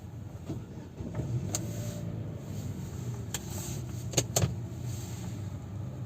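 A Chevrolet Aveo engine turns over and settles into a low, steady idle, with a few sharp clicks and clunks nearby.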